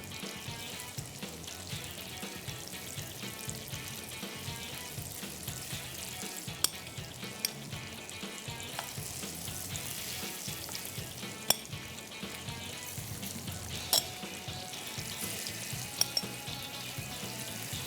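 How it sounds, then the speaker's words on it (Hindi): Chicken is pan-seared for jalapeno chicken, a quiet steady frying hiss that runs throughout, with a few sharp utensil clicks scattered through it and no voices. "यहाँ पर हमारे पास जो चिकन है वो यहाँ पर हम लोग पैन सीयर करेंगे इसको"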